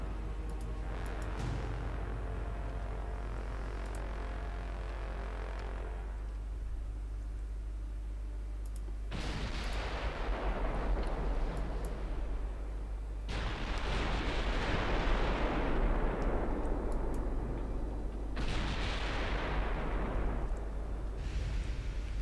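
Naval gunfire in the warship game Ultimate Admiral Dreadnoughts comes as several long, heavy booming blasts that swell and roll off one after another over a constant low rumble, with no speech.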